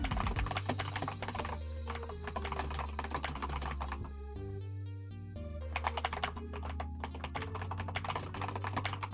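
Rapid, steady typing on a computer keyboard, close and crisp, with dense clusters of keystrokes and brief pauses between bursts, alone without talk.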